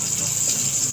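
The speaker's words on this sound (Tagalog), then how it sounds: "Mag-isa na tayo ng bawang, sibuyas." Garlic and onion sautéing in a pan, a steady close frying sizzle for a brief moment, ending in a quick scrape or clatter.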